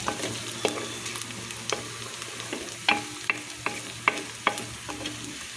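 Onions and curry leaves sizzle steadily in a pan while a spatula scrapes and taps at irregular intervals, close and moderately loud, with no talking.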